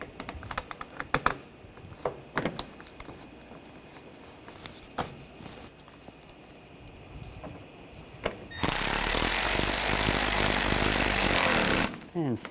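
Screws being started by hand into Buick Encore headlight panels, a series of soft clicks and taps, then a loud power driver whirrs continuously for several seconds before cutting off.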